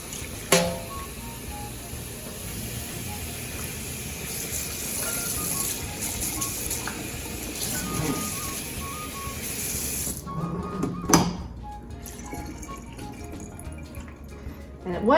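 Running water hisses and splashes steadily over a raw turkey being rinsed in a kitchen, a close continuous wash with a few knocks, briefly cutting off before water noise resumes near the end.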